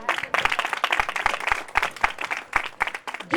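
A congregation at a Christmas celebration meeting in Sahiwal claps in a quick, uneven burst of applause, close and lively, with no talking over it.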